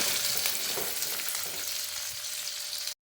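Chillies and garlic fry in a pan for a spicy garlic chutney, giving a loud, dense, continuous sizzle close by that carries steadily with no voices before cutting off abruptly.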